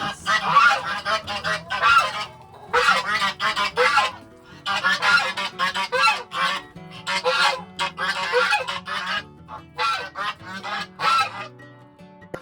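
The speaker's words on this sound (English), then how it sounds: "Geese shenanigans." Geese honking loudly and close on a farm, in repeated noisy bursts of overlapping calls with short gaps between them.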